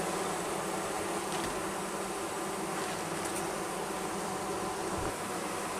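Honeybees in a queenless hive produce a dense, steady buzzing hum that is close and continuous, with no gaps or voices.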